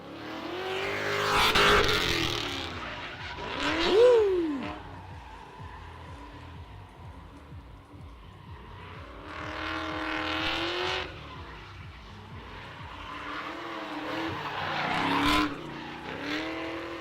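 A drift car at a test-and-tune session loudly revs and slides through repeated passes, with engine roars rising and falling and sharp tire squeals sweeping past in bursts, from close by to farther away.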